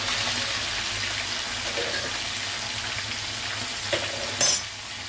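Cumin seeds and fenugreek seeds dropped into hot oil with green chillies, a soft steady sizzle and light crackle close by, ending with a brief clatter of stirring, no voices.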